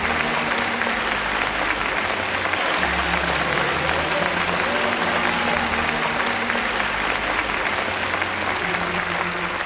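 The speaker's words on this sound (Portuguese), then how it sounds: "Um aplauso para o Senhor." A congregation at an evangelical ministry class applauds steadily and fairly loudly, with sustained low organ-like tones sounding underneath the clapping.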